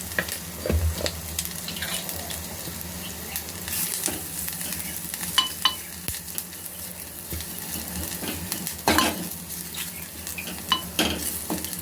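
Turmeric fries in a tempering for pepper rasam, with a continuous sizzle broken by frequent spoon scrapes and clinks against the pan, close and fairly loud, and no talking.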